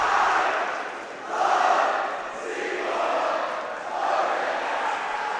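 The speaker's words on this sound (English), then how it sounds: "The noise you're hearing is the CBC student section." A high school student section cheers and chants in a gym during a basketball game, loud crowd roars rising and falling in rhythmic waves.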